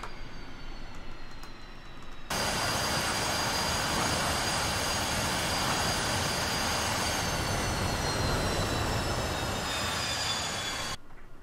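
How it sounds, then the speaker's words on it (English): The twin jet engines of a Su-25T attack aircraft, parked with the canopy open in the DCS World simulator, give a loud, steady roar with a high whine that slowly drops in pitch as they spool down, then cut off abruptly. "We will kill the engines."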